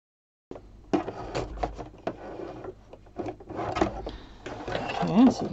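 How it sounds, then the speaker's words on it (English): A domestic sewing machine free-motion stitches back and forth over a thread bar for cut-work embroidery, producing bursts of close mechanical whirring and rattling with short pauses between runs. "And now we're going to stitch down over that bar."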